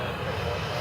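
An American Airlines jet on the runway at DFW Airport gives a steady broad engine roar during takeoff, dense and constant across the short span.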